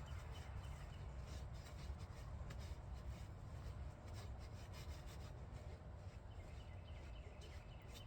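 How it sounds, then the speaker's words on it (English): Hands massage and rough up faux fur, giving a continuous soft rubbing and scratching that stays quiet, close and steady with no talking. "We're gonna start massaging and rough up this fur."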